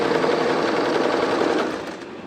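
Sewing machine stitching a frill skirt, a steady close whir of continuous running that eases slightly softer near the end, with no talking.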